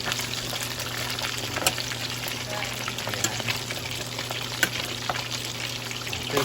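Food sizzling and frying in a pan while being stirred at a home family dinner, a steady close crackle with occasional utensil scrapes and clicks throughout.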